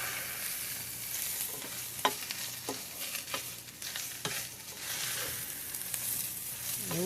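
Chorizo and potato fry in a pan with a steady sizzle while a utensil stirs and scrapes through them, a few sharper knocks against the pan standing out, close-up with no talking.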